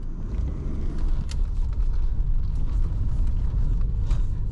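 A Holden VS Caprice Super 6 on the road, its engine and tyres giving a steady low rumble from inside the cabin, with a few faint clicks and knocks over the drone.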